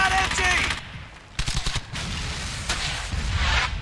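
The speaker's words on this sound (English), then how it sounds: "I need suppressing fire on that MG." Machine gun bursts in the Brothers in Arms: Hell's Highway video game: loud rattling volleys that pause briefly and resume, layered with battle noise and no speech.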